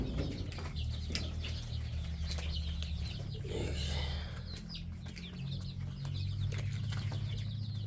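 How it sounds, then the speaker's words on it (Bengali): Around forty chickens on a poultry farm cluck and call softly at a steady close range, with occasional wing flaps over a constant low background hum, just after being fed. "এখানে আছে 40টার মতো মুরগি।"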